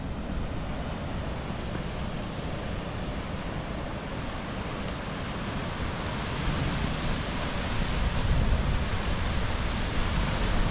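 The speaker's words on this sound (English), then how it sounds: "Pretty impressive waves down here." Sea waves breaking on the shore below an old coastal quarry, a continuous dense roar of surf that grows slightly louder toward the end, with no voices.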